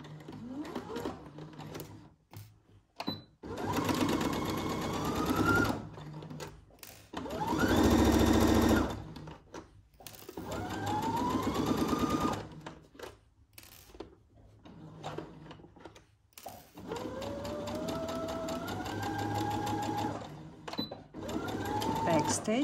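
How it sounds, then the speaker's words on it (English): A home sewing machine stitches a dress front yoke to the bodice with a 5/8-inch seam allowance. Its motor rises in repeated runs with short pauses between them, loud and close, and a voice is heard intermittently. "We are stitching our front yoke on our front body with 5/8 of an inch seam-allowance."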